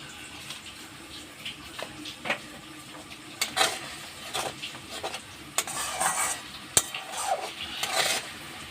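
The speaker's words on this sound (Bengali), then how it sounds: "দেখুন ঝোলটা আমার ফুটে উঠেছে।" Fish curry broth bubbling in a pan, a low simmering hiss broken by clinks and stirring scrapes of a utensil against the metal, close and without talk.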